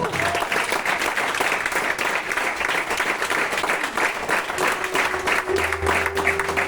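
A church congregation claps steadily for Christ, a full, continuous wash of many hands. A faint sustained tone and a low hum run beneath the clapping.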